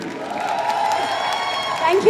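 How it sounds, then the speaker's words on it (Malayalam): Audience applause at a Malayalam film trailer launch, a steady patter of clapping from a seated crowd that swells slightly near the end. "ഒരു കയ്യടി കൊടുത്തേ ചേച്ചിക്ക്"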